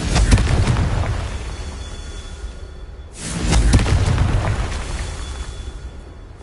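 Confringo blasting spell going off in a wizard game, two loud booming explosions a few seconds apart, each one hitting with a sharp whoosh and then fading into a low rumble.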